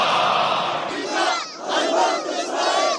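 A massive protest crowd in Sana'a, Yemen, denouncing strikes and showing solidarity with Gaza, chants and roars loudly and continuously, a dense wall of voices that dips briefly before surging again.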